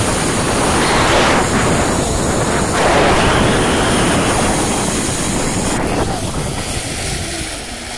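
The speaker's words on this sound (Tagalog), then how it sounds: "Ang lakas ng hangin." Strong wind at a zip line roars and buffets the microphone throughout, a steady loud rush with gusty swells, no voices.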